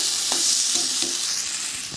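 A spoon stirs spices and sugar in a frying pan for a Bengali curry of giant taro and lentil dumplings, soft scraping strokes repeating over a steady nearby sizzle.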